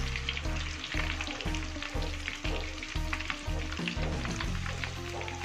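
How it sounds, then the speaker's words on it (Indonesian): Chicken crackles and sizzles steadily, submerged in plenty of oil over medium heat, a dense continuous frying hiss with a rhythmic underlying pulse, close and fairly loud. "Saat kita menggoreng, minyaknya harus banyak biar ayamnya tenggelam"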